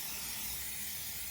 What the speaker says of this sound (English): I just got a bit curious about what happens if I spray this on my tyres.